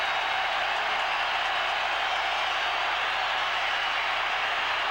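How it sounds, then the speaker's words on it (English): A stadium crowd roars in a steady, loud wall of noise during the 1987 AFC Wild Card game between Seattle and Houston as the Oilers rev up the fans, sustained with no breaks. "Oilers revving up the crowd"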